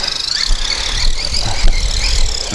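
A JLB Cheetah 4x4 1/10-scale RC monster truck driving, its electric motor giving a steady, close, high whine with tire noise and small bumps rumbling underneath.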